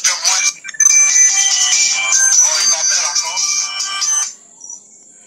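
An incoming call's phone ringtone plays loud and close as a repeating melodic electronic tune lasting about four seconds, then cuts off, leaving near-silence.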